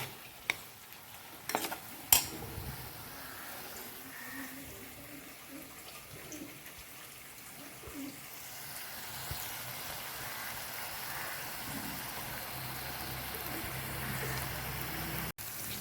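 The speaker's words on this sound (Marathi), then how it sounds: "आपला बारीक चिरलेला कांदा ॲड करून घेऊ आणि कांदा हा छान एकदम खरपूस असा भाजून घेऊया" Finely chopped onion roasts in a pan, giving a low, soft sizzle, with a few sharp clinks of a spoon against metal early on, then a quieter, continuous frying hiss.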